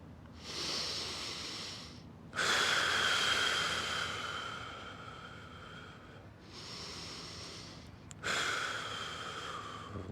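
Deep, slow breaths during a yoga flow while holding a warrior one pose: several long, airy inhales and exhales close to the mic, each lasting a few seconds with brief quiet gaps between them.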